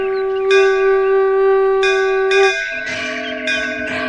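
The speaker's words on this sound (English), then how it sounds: "heard the auspicious ringing of the temple bells in the serene dawn" Temple bells ring out in a few overlapping strikes, each leaving a long, shimmering resonant hum, close and clear with no voices.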